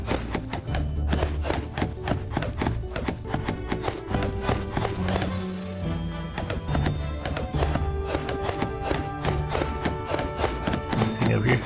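Hooves clip-clop steadily through a wild horse rescue outing, a dense run of close, regular knocks with occasional whinny-like tones and voices mixed in.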